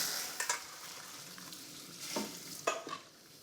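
A hot pan of fat being drained in a kitchen, a soft steady sizzle with a few scrapes and clinks of metal, fairly quiet and close, with no voices.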